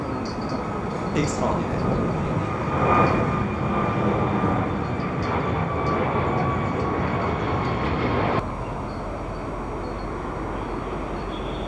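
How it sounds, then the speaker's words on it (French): An Airbus C-Series 300 airliner with twin Pratt & Whitney turbofan engines climbing out at an air show, a steady broadband roar with a faint whine that drops off sharply near the end, with a voice talking over it. "Cet avion est équipé de deux moteurs Pratt & Whitney double flux, extrêmement silencieux, vous pouvez le reconnaître."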